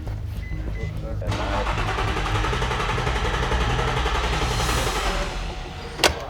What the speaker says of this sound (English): when you turn the key on, you hear a pump.